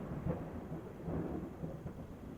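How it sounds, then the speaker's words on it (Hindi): Heavy rain pours with rolling thunder, a muffled, fairly quiet low rumble that swells and fades over a steady wash of falling water. "बाहर बारिश भी जोरों पर थी।"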